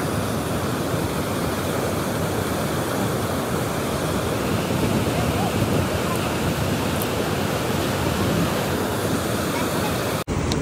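Strong water gushing from a pipe at a stream or channel, a dense, steady roar that fills the whole clip, loud and close, with no voices and only a brief dropout near the end.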